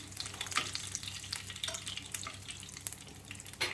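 Flour frying in oil in a pan as the base for a Turkish sulu köfte, giving a steady close crackling sizzle with light scraping and stirring noises throughout, no voices.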